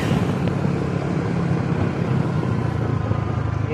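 A motor engine running nearby gives a steady, dense low rumble with rough broadband noise throughout, and no voices.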